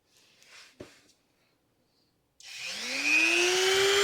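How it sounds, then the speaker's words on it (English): A Dremel with a flap disc spins up on a titanium bicycle handlebar, a rising whine that settles into a steady high grinding hiss, loud and close, after a few faint handling knocks and a brief silence. "I've picked up some tips in using the Dremel and the flappy disc"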